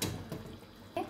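Water drained off cooked seeraga samba rice for chicken dum biryani, close splashing and pouring in short uneven surges.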